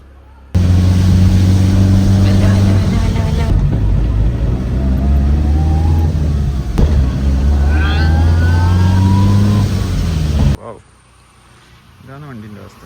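A Tata Indica diesel engine revs loudly and close, its rough clattering drone climbing in pitch, then holding high before cutting sharply back to a quieter idle.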